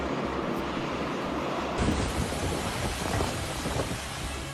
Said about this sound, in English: This was just another typical summer thunderstorm in Florida.